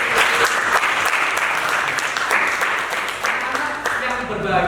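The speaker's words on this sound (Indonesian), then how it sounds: "tepuk tangan untuk kita semua" A class of participants at a teaching session claps together in a dense, steady round of applause, close and loud throughout, with faint voices mixed in.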